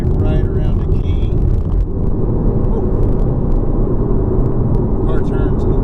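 A 2016 Chevrolet Camaro SS taken fast through a corner, its engine and road roar loud and steady from inside the cabin, with no let-up for the whole stretch.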